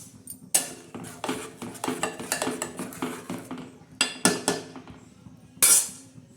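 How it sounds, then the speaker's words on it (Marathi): A spoon scrapes and clinks steadily against a metal pan while fish curry masala is stirred, a run of quick rhythmic knocks with a few sharper clanks, close and fairly quiet with no talking. "परत एकदा असा छान असा हलवून घेणार आहोत हा मसाला"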